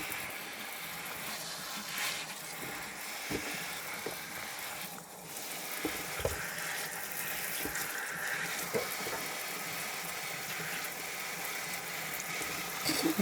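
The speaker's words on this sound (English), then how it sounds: "And this will be the second time we've washed these." Fresh vegetables being rinsed a second time under a running kitchen faucet in a sink, a steady close hiss of flowing water with occasional splashes and clunks, no talking.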